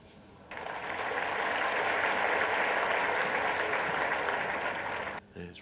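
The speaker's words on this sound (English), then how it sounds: "Rogue applause, wasn't it?" Snooker audience applauding at the 2021 German Masters: steady, loud clapping from a crowd that starts abruptly after a brief quieter lead-in, holds evenly for about five seconds, then cuts off.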